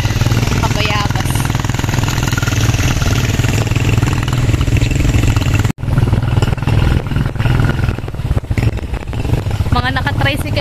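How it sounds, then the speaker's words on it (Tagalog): Tricycles and motorcycles riding together on the way to a river resort: a loud, continuous engine roar with rattling clatter, steady and close. Partway through there is a brief cut, then the rumble continues. People's voices are heard faintly underneath. "Mga naka-tricycle at mga naka-motor po kami."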